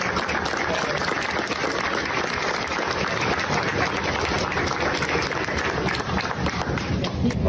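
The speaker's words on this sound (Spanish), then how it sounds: "Yo desde acá, a nombre del Perú, quiero dar un aplauso tremendo para el día martes." Studio audience applause on a live Peruvian evening talk show, loud, dense and continuous clapping that holds at an even level throughout, with no break.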